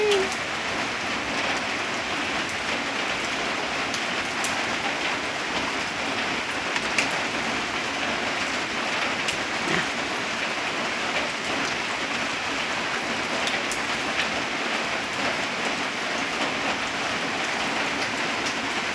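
Light rain falls outdoors in a steady, even hiss of fine drops, with occasional sharper patters and faint bird sounds in the background.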